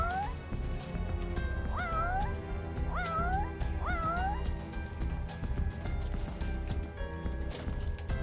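A cat in the video game Final Fantasy XV lets out three or four rising meows in quick succession over steady game music and background effects.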